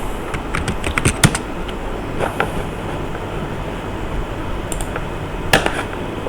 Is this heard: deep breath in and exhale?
no